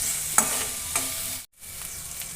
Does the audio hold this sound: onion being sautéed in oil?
yes